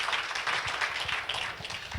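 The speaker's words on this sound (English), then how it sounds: "a round of applause for them" An audience applauds volunteers at a community talk in Portage County, Ohio, with a dense, steady wash of clapping from many hands, fairly loud and continuous, with no talking over it.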